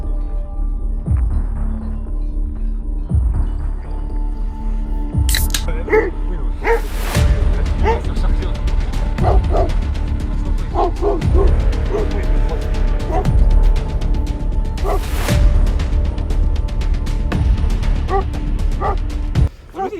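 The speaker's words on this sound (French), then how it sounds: "on n'avance plus parce qu'il y a des chiens" Dogs bark on a mountain trail near La Plagne: repeated close, loud barks and yips come in bursts over about twenty seconds, with some whimpering and people's voices underneath.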